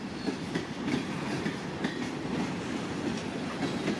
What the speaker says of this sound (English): Union Pacific coming up there, guys.